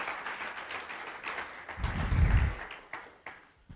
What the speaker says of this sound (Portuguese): Dê mais uma salva de palmas para Jesus.